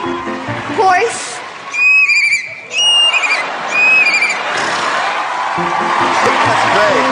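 On a televised talent show, a young girl imitates a horse's neigh with several shrill, quavering whinnies, loud and close, while an audience cheers and a voice speaks around them.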